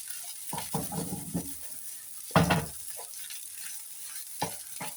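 Fried rice sizzles in a small pan over a constant hiss while a utensil stirs and scrapes it in a few irregular bursts, one louder scrape in the middle.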